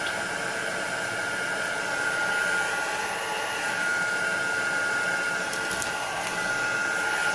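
A hair dryer blows steady, even air at close range to dry wet paint on a mixed media journal page, a continuous whooshing drone with no talk.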